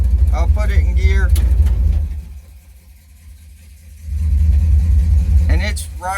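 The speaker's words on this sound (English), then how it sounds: "you can see it's idling right at 1000 RPM" A car engine fitted with a newly installed Quadrajet carburetor idles steadily near 1000 RPM, a close, continuous low rumble that drops back briefly then returns, with someone talking over it at the start and end.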